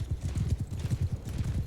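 Horses gallop in Mount & Blade 2 Bannerlord, a fast, heavy, close drumming of hoofbeats in a continuous rolling rhythm.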